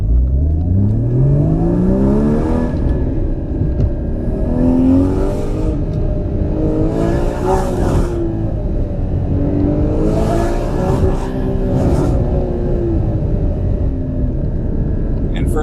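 A car accelerating hard in first gear, engine rising in pitch through repeated revving sweeps, loud and close, with speech running over it.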